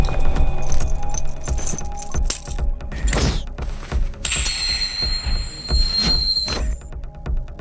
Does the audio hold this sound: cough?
no